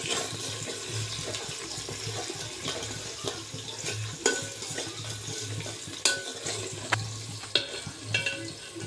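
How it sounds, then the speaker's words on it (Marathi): Onion fries in oil with added salt in a pan, giving a steady sizzling hiss. A spoon stirs and clinks against the pot now and then, with a few sharper knocks toward the end. "कांदा लवकर फ्राय होण्यासाठी यामध्ये मी मीठ ॲड केलं आहे"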